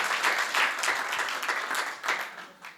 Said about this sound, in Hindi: तालियां बजाइए पहले